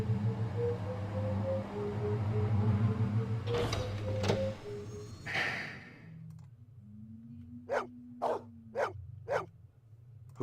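A dog barks in the 1997 Blade Runner video game, four short sharp barks evenly spaced near the end, following a humming machine-like drone and some clicks.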